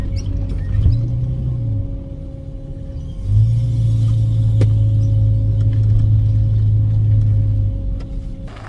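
A barn-find Jaguar XJS V12 with brake trouble and a hard pull to the left drives around the block, its engine a steady low rumble that briefly eases and then swells again, close and fairly loud, with no talking.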